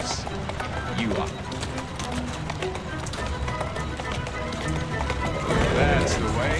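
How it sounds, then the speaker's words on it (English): A horse in Assassin's Creed Syndicate runs with steady clip-clopping hooves, rising slightly louder near the end, with a possible brief whinny, set against a busy game soundscape with talk. "Who's a good horse? You are."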